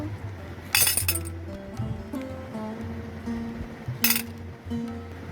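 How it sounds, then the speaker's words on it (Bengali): Gems chocolate candies poured from a packet onto a plate: two short bright clattering cascades a few seconds apart, close and crisp, with quieter handling sounds between them and no talking. "বান্টি জেমসের প্যাকেটটা খুলে এই প্লেটের মধ্যে ঢেলে দেয় চকলেটগুলো"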